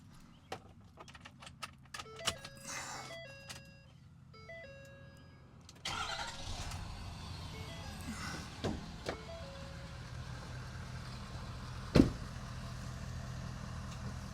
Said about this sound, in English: This thing sounds like an old gritty work truck